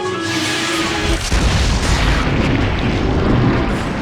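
The Anti-BOW linear launcher, a railgun in Resident Evil Code: Veronica, lets out a sustained charging whine, then a single heavy, loud boom, followed by a rumbling roar that trails on for several seconds.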